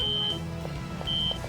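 Two short high beeps from the Phantasy Star Universe video game sound about a second apart over a busy game soundscape.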